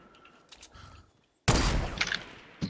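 Gunfire erupts in the Fortnite video game, a sudden loud burst of rapid shots that follows a quieter stretch of faint game sounds and fills the rest of the moment.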